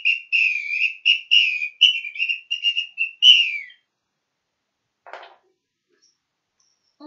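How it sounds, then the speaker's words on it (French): A whistle is blown in a quick series of short, shrill toots, close and loud, followed by a brief soft rustle. "Un autre instrument où on souffle, c'est le sifflet."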